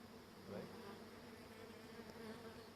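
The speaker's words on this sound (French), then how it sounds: "Il y a des abeilles qui sont en train d'indiquer aux autres où est-ce qu'elles ont vu un endroit pour loger." A swarm of honeybees scouting for a new nest site hums outdoors as a faint, continuous buzz, steady and distant with no voices.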